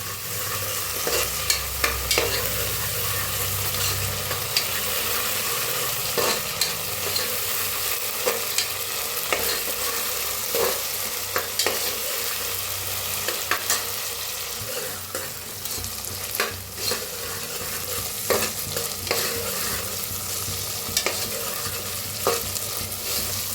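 Green chillies, chopped onion and ginger-garlic paste fry in a pan with a constant close sizzle, broken by repeated scraping stirs and occasional clicks of the spoon against metal.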